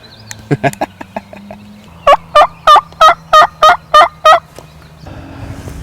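Wild turkeys gobbling nearby during a turkey hunt, a quick run of sharp clucks followed by eight loud, evenly spaced gobbles in a steady rhythm.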